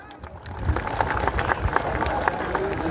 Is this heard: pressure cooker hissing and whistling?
no